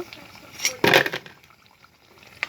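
Vegetable chops frying in hot oil give a bubbling, crackling sizzle, with a louder burst early on that settles into quieter pops.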